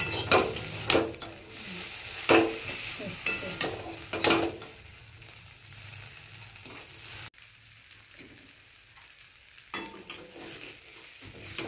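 Vegetable stalks cooked with mustard frying in a pan, a soft steady sizzle broken by repeated scraping stirs and clinks of a spatula on metal, close up, going quieter midway before more stirring; no talk.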